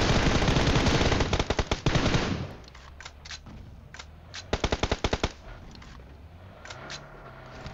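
Gunfire in the mobile battle royale game BGMI: a sustained loud burst of automatic fire, then scattered single shots and a quick rapid volley, with quieter game ambience between.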